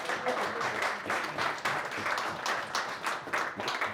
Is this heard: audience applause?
yes